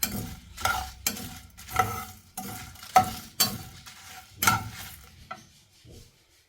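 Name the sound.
roasting whole spices in a pan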